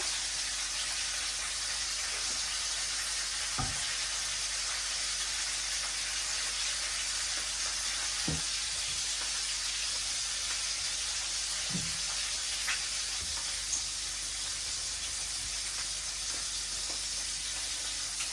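Pointed gourd frying in a pan, a steady low hiss of sizzling oil running throughout with a few faint clicks, no talking.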